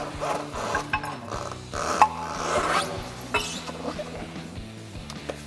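A spare tire mount is worked loose from under a RAM 2500 truck, giving scattered metallic scrapes, rubs and a few sharp knocks over a low background hum, with no talk.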